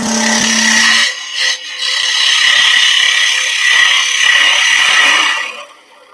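Wood being turned on a lathe makes a boxwood workpiece give off a sustained scraping, rasping cut, loud and close, with a brief low hum at the start and a short dip in the middle before the cut fades out at the end.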